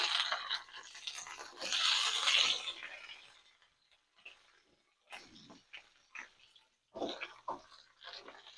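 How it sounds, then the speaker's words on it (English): Brussels sprouts poured into a hot pan of cooking bacon: a loud, rushing clatter for about three seconds, then scattered sizzling pops and knocks in the pan, with no one speaking. "Pour my Brussels sprouts right on in here."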